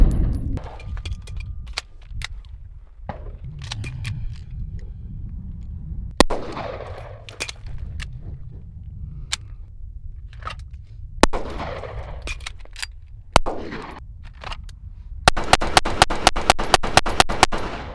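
Pistol shots from a Springfield Prodigy double-stack 1911, fired one at a time at an outdoor range: several widely spaced sharp cracks, then a fast string of about nine rapid shots near the end, loud and close, with no talk.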